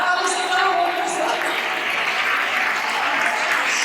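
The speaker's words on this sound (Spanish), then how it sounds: "Hoy fortísimo aplauso para ella, fortísimo aplauso" Audience applause at a 2023 sports gala honoring a basketball association athlete: sustained, even crowd clapping filling the room, with faint voices mixed underneath.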